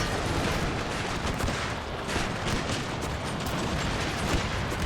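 Musket regiments fire in a video game battle between armies, including Swedish forces, giving a dense, unbroken crackle of volleys with thumping reports, loud and sustained from start to finish.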